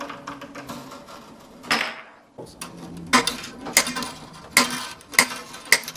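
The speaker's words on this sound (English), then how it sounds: "First thing I do is loosen the strings." Strings on a baby Taylor acoustic guitar are loosened quickly, giving scattered ticking, clicking and metallic ratchet-like clinks at close range, broken by a brief silent gap and with no talking.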